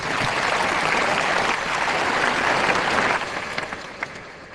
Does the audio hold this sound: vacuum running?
no